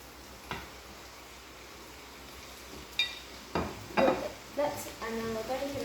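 Tomato going into a hot pan for a plantain and egg frittata, faint steady sizzling with a few louder bursts of sizzle and stirring clatter toward the end.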